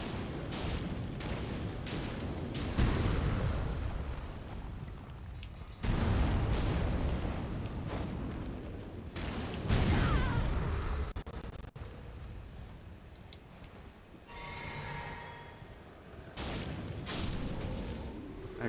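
Fire magic explosions in Elden Ring, a series of loud, rumbling bursts and booms coming in waves, with crackling and hissing tails between blasts.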